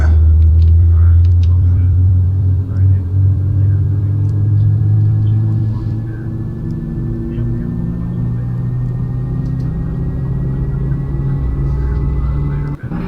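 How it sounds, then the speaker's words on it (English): A jet engine of a Cessna Citation Mustang starts up in a flight simulator game: a low, steady rumble and whine builds and holds, with faint rising tones layered over a deep drone. "Okay, I got one engine going."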